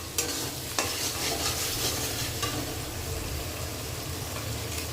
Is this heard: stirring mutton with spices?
yes